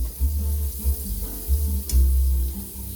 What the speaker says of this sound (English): And then I'll just let it kind of fry in the rest of its juices as it's finishing up.